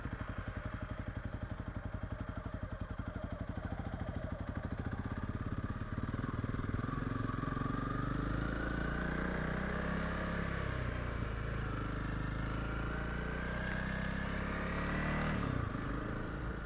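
A Honda CRF 300 Rally motorcycle rides along a road toward the Cederberg Pass, its engine droning steadily and close throughout, rising slightly in pitch midway with wind noise over the top.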